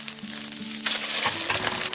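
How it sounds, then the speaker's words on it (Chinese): An egg cracked into hot oil in a pan: a faint hiss, then a sudden loud, bright sizzle that stays strong and crackling to the end, up close. "锅中油热，打入一个鸡蛋，鸡蛋定型以后再煎至颜色金黄"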